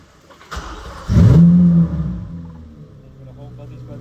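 A Chevrolet Corvette C8 Z06 starts with a sharp crank, then a loud roar that settles into a steady, rumbling idle close by.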